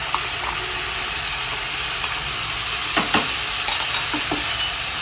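A green paste of coconut, green chilli, ginger, garlic and coriander is sautéed with vegetables in a pan for ivy gourd rice. A steady, soft sizzle runs throughout, with a few sharp clicks from stirring near the middle and end.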